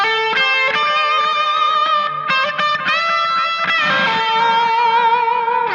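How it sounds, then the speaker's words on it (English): Electric guitar through a JCM 800 amp model with heavy distortion, echoing delay and lush reverb, playing sustained notes and chords that ring out continuously and loudly. "Now I'm gonna turn on the reverb and delay."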